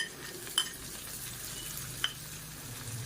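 Garlic sizzling steadily in hot oil for a South Indian tempering of mor kuzhambu, with a soft continuous frying hiss and two brief utensil clinks against the pan.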